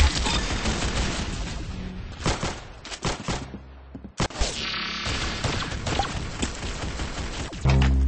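Gunfire in the Roblox game Arsenal: loud, rapid bursts of shots and impacts, dense and close, with brief gaps, sound alone without talk.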